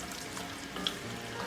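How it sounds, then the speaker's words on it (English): Smoked ham sizzling in olive oil over high heat in a Dutch oven, a steady soft broadband frying hiss with a faint crackle, close and alone. "We're gonna bring that up to a high heat and let this sizzle up a little bit."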